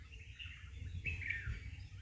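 Myna birds chirp in a quick cluster of calls around a feeding plate, the notes moderately close over a low steady background rumble, with no talking.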